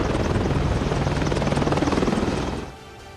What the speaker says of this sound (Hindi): अमेरिका से भेजे गए 3 अपाचे हेलीकॉप्टर गाजियाबाद के हिंडन एयरबेस पर उतरे